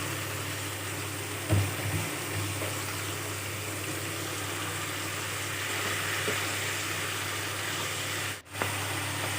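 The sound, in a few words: duck meat added to fried onions, sizzling in the pan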